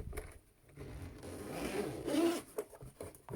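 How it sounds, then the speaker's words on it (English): A zipper is drawn open on the DJI Mavic Mini Fly More combo carry case in one close, continuous rasping pull, with a few soft handling clicks at the end. "I'm going to unzip that"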